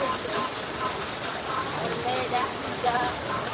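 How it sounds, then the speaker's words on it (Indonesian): Continuous rain noise on an open field during bull-racing practice in Asemanis, a broad steady wash with faint scattered patter, unchanging throughout and fairly close. "Aduh, hujan bos"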